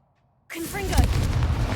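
Confringo blasting curse explosion in the Hogwarts Legacy video game: a sudden loud blast breaks out of silence and rumbles on for over a second, with a voice briefly heard over it.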